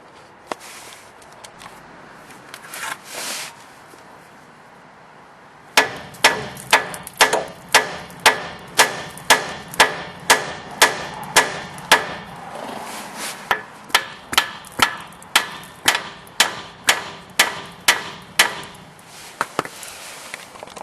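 Metal-on-metal hammer blows knock loose the tie rod ends on a 2nd-generation Dodge Ram's steering, a long run of sharp, evenly spaced strikes with a brief pause midway, loud and close, no talking.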